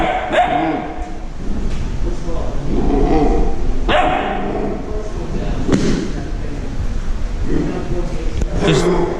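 A seven-week-old puppy in a workshop gives several sharp, high barks and yips, close and loud, spaced a couple of seconds apart over a continuous background rumble, with a person talking in between.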